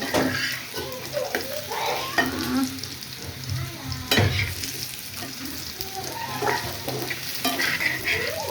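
Beef is stirred and fried together with already-fried potatoes in a pan, a dense continuous sizzle punctuated by repeated scraping strokes of the spoon.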